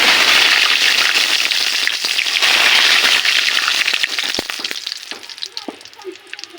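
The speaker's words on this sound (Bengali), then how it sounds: "গোলমরিচ, এলাচ, এগুলো এখন তেলের ভিতর দিয়ে দিব। দিয়ে দেব গোটা তেজপাতা।" Whole black pepper, cardamom, cinnamon, cloves and bay leaf dropped into hot oil for a mutton curry, crackling in a loud, steady sizzle that gradually settles into sparser pops and spits near the close.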